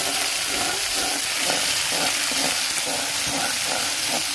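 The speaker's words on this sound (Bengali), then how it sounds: "প্রথমে গরম তেলের ভেতর মিনিমাস মাছ দিয়ে দিয়ে সেটাকে ভালো করে ভেজে নেব" Small minimus fish frying in hot oil on a clay stove, a steady close sizzle running throughout with faint rhythmic pulses, no voices.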